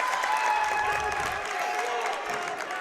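Summertown Eagles fans at a high school boys basketball region quarterfinal at Cannon County, clapping and cheering loudly and continuously in a gym, with faint talk beneath.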